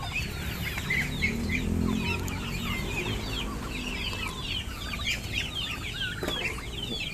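Chickens and Muscovy ducks being fed in a farmyard, with steady clucking and soft fowl calls close by and bright chirps scattered throughout, over a constant outdoor background and no talking.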